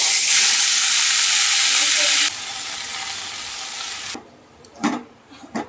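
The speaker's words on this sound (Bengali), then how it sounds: "এখানে এখন কলমি শাক ভাজছি" Kalmi greens (water spinach) fry in a pan with a loud, continuous sizzle that drops to a quieter crackle partway through, then gives way to a few soft knocks and stirring sounds.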